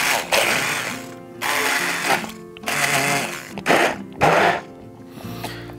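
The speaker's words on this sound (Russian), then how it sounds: "теперь все это нужно взбить блендером" A kitchen blender whips mango, pineapple, peanut butter and condensed milk into a dessert cream, running in several loud bursts of whirring and grinding separated by short pauses.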